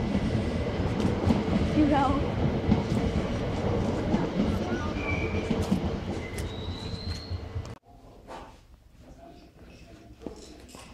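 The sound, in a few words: real train passing at a railway museum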